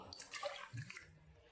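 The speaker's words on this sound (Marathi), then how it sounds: "एवढं पाणी घालणार आहे" Water poured onto half a cup of old Surti Kolam rice in a pressure cooker, a brief, faint splashing pour that trails off quickly.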